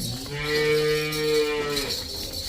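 A cow lowing on a dairy farm in Punjab, one long deep moo lasting about two seconds, close and loud over faint farm background noise, with no talk.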